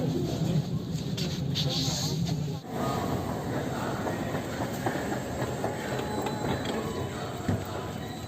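A Delhi metro train arriving at Lal Qila metro station fills the platform with a steady, loud rumble and wheel clatter. A brief dip comes early, then the rolling noise continues throughout.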